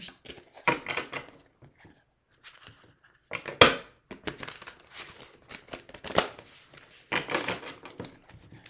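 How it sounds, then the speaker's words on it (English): Ember and Aura tarot cards with rose gold edges and swishy cardstock are shuffled in bursts of crisp riffling and sliding swishes, separated by short quiet pauses, close up with no voices. "it's very swishy cardstock for shuffling, which I enjoy"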